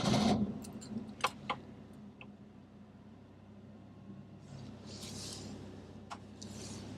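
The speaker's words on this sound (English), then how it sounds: "Now I'm going to start it up and let you have a listen." A Volvo 244 engine idles very quietly as a low, faint steady hum, with a few clicks and ticks near the start and soft rustling later.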